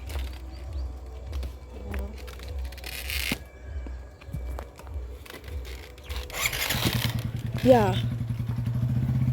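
A motorcycle rolls in through a gate, its engine idling low and steady in the background before swelling louder and closer near the end, with people talking over it.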